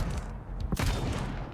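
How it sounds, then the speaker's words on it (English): Big cannons fire from a pirate battleship in the game Trailmakers, a dense rumbling barrage with one sharper blast cutting through midway, loud and continuous with no voices. "All kinds of big cannons."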